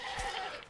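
A single short goat bleat from a zombie video game, nasal and wavering, heard alone and close for under a second.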